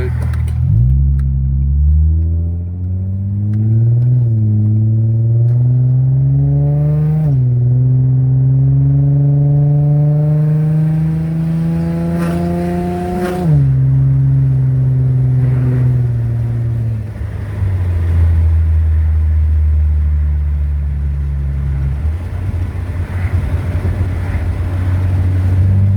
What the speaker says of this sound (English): The car start driving normal now.